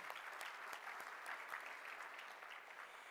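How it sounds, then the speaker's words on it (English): Applause at the World Trade Center St. Louis annual luncheon welcomes honorary consul guests, a steady, moderate patter of many hands in a banquet room, fairly faint and even throughout. "So a round of applause for all of them."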